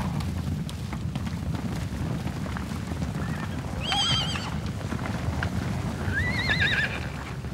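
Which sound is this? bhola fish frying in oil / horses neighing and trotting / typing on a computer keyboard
horses neighing and trotting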